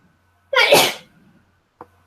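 A single loud, close sneeze bursts out in a quiet classroom setting during a group lesson, followed by a short faint click or sound before silence.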